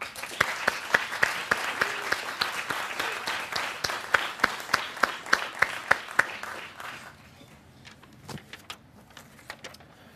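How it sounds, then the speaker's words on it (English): Audience applause for an honoree at a Founding Valentines 2015 evening event, a dense burst of many hands clapping with sharp individual claps for about seven seconds before fading to a quiet room. "let's give a round of applause for Beryl Boykin"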